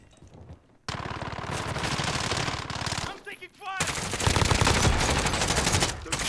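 Dense automatic gunfire and bursts in a Call of Duty Warzone match, loud and continuous with rapid rattling, a brief lull near the middle, then heavy firing resumes; voices talk faintly underneath.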